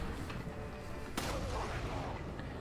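A single sharp gunshot cracks out mid-clip in Resident Evil 4, a headshot on a helmeted enemy, set against a low, steady game background.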